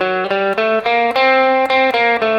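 Electric guitar playing a Dorian sharp 4 scale, single notes moving step by step in an even rhythm, with sustained, slightly driven tone close and alone.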